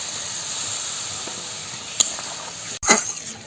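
Water hits a pan of bitter gourd curry and sets off a loud burst of sizzling and hissing. Sharp spikes come at about two seconds and again near three seconds, over a constant background frying hiss.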